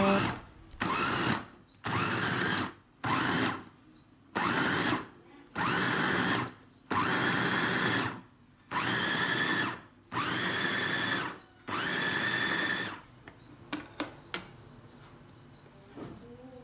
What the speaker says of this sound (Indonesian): ini saya menggunakan chopper IL216J lagi untuk uh, menghaluskan cabai